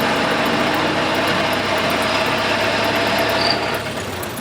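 A Ford Model T engine drones steadily while riding around Greenfield Village at about 20 miles an hour, a loud, continuous close-up rattling hum mixed with road and wind noise that eases slightly at the end.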